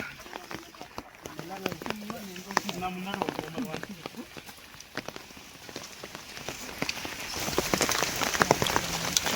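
Rain falling and pattering on surfaces in Wayanad, with people talking nearby over the steady drops.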